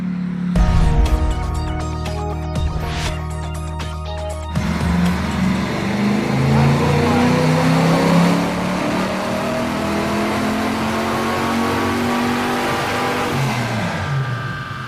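A 1967 Pontiac Firebird pulls hard in second gear. A brief rumbling start gives way to a loud, sustained engine roar whose pitch climbs steadily as the car accelerates, with no voices.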